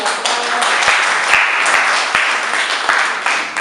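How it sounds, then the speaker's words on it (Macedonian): Audience applause in a school hall, steady dense clapping throughout with a few sharper individual claps standing out. "Аплауз."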